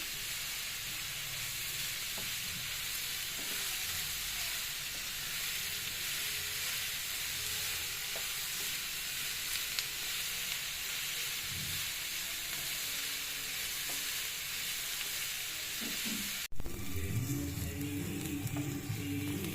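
Chicken frying in a pan with onion, shallots, green chilli and garlic gives a loud, steady sizzle throughout, with occasional faint stirring clicks and a brief break near the end.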